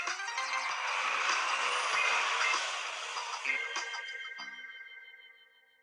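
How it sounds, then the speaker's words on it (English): A cartoon sound effect of a school bus driving along with a rumbling engine, then hissing air brakes as it stops, fading out at the end. "Pete rides the bus home."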